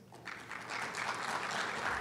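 Applause rises from a crowd at the launch event of the Elma Francois Institute. It starts with a few claps, swells within a second into full, sustained clapping heard at a moderate distance, and no speech is heard.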